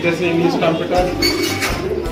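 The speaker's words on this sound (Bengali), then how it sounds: "আপনার কী কী কবুতর আছে আমাদের সাথে একটু পরিচয় করে দিন" Pigeons coo at a pigeon farm in Magura, Bangladesh, a low repeated cooing with other bird calls layered over steady background noise throughout.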